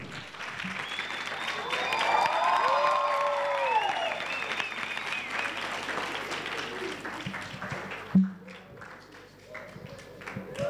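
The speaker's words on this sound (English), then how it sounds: "Give her a round of applause." An audience at a youth event applauds to welcome a former Miss South Africa to the stage: sustained, close clapping from a crowd, with cheering voices rising above it before it thins out near the end.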